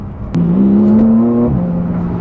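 A Porsche 911 Turbo S engine, heard up close, gives one quick rev: a sharp rise into a rising whine that holds for about a second and then settles back to a steady idle.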